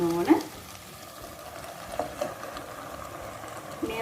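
Chicken fries and steams in oil in a lidded pan, giving a soft, continuous sizzle with a few brief clinks.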